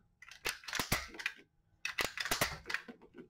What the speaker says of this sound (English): And the clicking you're hearing is a two-stage loading mechanism.